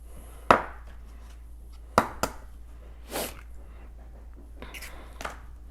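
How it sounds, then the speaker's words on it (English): Eggs for a hamantaschen dough cracked one after another into a small bowl in a quiet kitchen: a few sharp taps and cracks spaced over several seconds, each followed by a soft wet spill. "So I'm just going to crack them into a little bowl and then dump them in"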